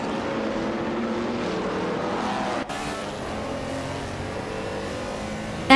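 A 1958 Ferrari race car's engine roars steadily in a racing video game, a sustained high-revving drone with a brief dip near the middle and a sharp burst right at the end.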